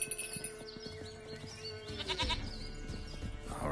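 A goat bleats in The Witcher 3 video game, its wavering calls rising over a quiet layer of ambient game sound and music, with no speech.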